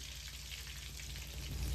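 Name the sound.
mustard and fenugreek spluttering in oil for fish curry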